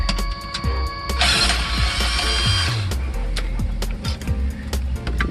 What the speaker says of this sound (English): I'm going to go grab a socket, pull these out